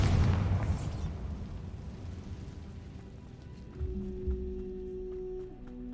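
Bombarda explosion spell in the video game Hogwarts Legacy: a heavy blast opens loud and deep, then decays into a long rumbling tail with faint debris and tonal game sounds settling beneath.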